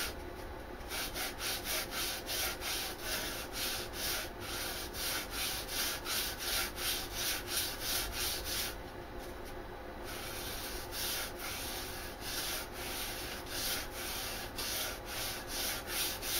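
Steel knife blade being hand sanded to take out scratches, a steady back-and-forth rubbing with a regular stroke rhythm that continues for a long stretch, close and moderately quiet, with no talking.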